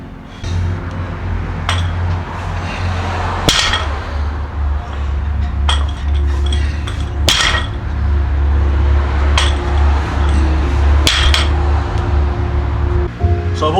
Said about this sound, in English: So yeah, let's start this deadlift.